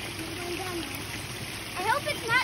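A rain-swollen stream runs with lots of water, a steady close rushing wash, while a person talks over it.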